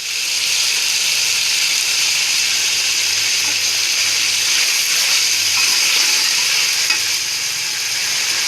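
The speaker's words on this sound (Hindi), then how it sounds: "थोड़ा सा हमने पानी ऐड किया" Hot frying pan of vegetables and potatoes for fried rice after a splash of water: continuous close, loud hissing sizzle and steam, steady throughout without pauses and with no speech.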